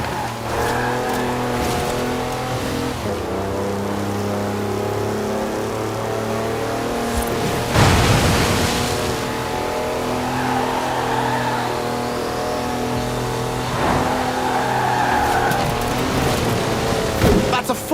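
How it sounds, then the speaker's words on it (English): A four-wheel-drive car on knobbly mud tyres slides fully sideways in a drifting run in Forza Horizon 4, its engine droning steadily and revving hard with surges of tyre noise, loud and close throughout. "That's a 4-wheel drive car on mud tyres completely sideways."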